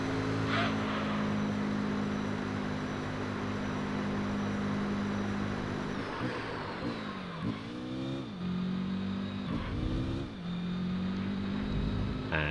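A Mazda RX-7 race car on worn tyres in Gran Turismo 3, its engine droning steadily at high revs, then pitch dips and climbs again as it shifts and brakes through corners, loud and continuous.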